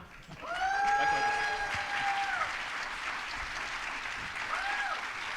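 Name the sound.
audience cheering and applause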